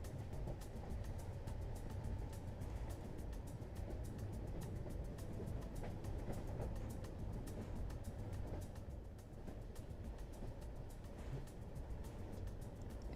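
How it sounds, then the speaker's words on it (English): Steady low rumble of a train running nearby, a continuous rolling drone that holds at an even level for the whole stretch with no talk over it. "can you hear the train?"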